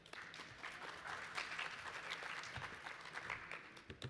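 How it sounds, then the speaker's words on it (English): An audience at a medical talk on chronic granulomatous disease claps in a sustained, even round of applause, moderately dense and quiet, tapering slightly at the end. "Let's give a little round of applause."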